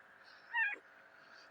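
A pet cat gives a single short meow indoors, a brief close call standing out over a quiet background with no talking.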